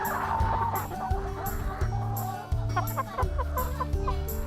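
Chickens on a small farm cluck and murmur in short, repeated bursts close by, several birds overlapping with a low steady rumble beneath; a voice is briefly audible.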